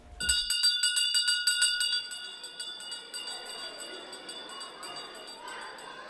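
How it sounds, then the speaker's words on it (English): Bells ring out loud and clear at a former school site, their bright peals striking repeatedly before fading into a long, lingering hum of overlapping tones with no other sounds over them. "Hooter wailing, bells ringing, now silence. The bells ring alone."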